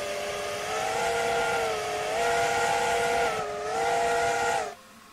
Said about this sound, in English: There's a new whistle, which varies depending how much you pull it.